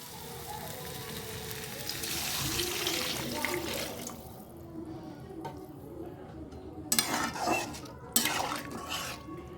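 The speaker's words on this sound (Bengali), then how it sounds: "এবার কষানো হয়ে গেছে, এরপর আমি জল দেবো।" Water poured into a pot of spiced lentils fried with turmeric, a sustained close rush of liquid at first that fades to a quieter simmer, followed by a couple of brief splashes near the end.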